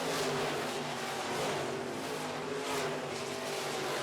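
Midwest Modified race cars roar around a dirt speedway oval, a loud continuous engine drone with steady harmonic tones that swell and fade slightly as the cars pass, with no talk over it.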